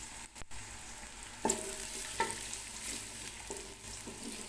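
Four medium chopped onions frying in hot oil for aloo matar pulao give off a steady, faint sizzle, broken by a few brief scraping stirs nearby, with no one talking.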